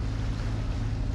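A sailboat motors under engine at sea, a low steady drone blended with wind buffeting the microphone and the hiss of water along the hull, continuous and fairly loud for a brief moment, no voices.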